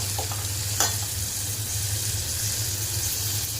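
Onion and tomato sauté in a pan, a steady moderate sizzle with a low continuous hum beneath and a couple of quick clinks from stirring, with no one speaking.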